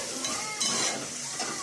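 Prawn curry with tomato and drumstick being stirred in a pan, a quiet, steady sizzle broken by a few light scraping turns of the spoon.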